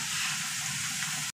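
Onions and chopped green chilies frying in a pan, a dense, close, steady sizzle and crackle that cuts off abruptly after just over a second.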